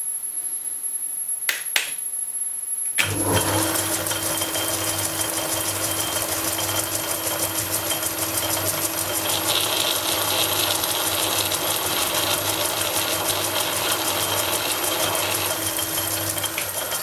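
A Lorch lathe cuts an 8mm thread with a steady, dense mechanical whir and rattle that continues unbroken after a short quiet start. No one speaks.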